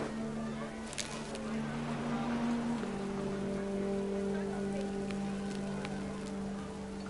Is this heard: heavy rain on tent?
yes